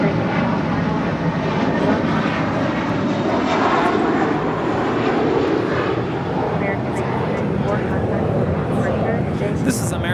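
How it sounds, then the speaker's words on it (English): An American Airlines Airbus A321 jet departs LAX for Dallas Fort Worth, its engines giving a loud, sustained roar for the full clip, with voices talking under the noise. "This is American Airlines Flight 1994 departing to Dallas Fort Worth on an A321."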